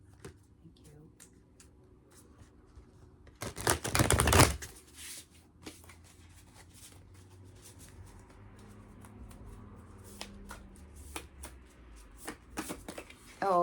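A deck of tarot cards is shuffled by hand, giving a loud burst of riffling flutter, then scattered soft taps and slaps of cards dropping and being handled, with occasional quiet talking.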